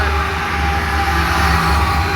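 A manifest freight train rolls past close by, a loud, constant rumble of wagons and wheels with steady tonal hum and hiss, unbroken throughout.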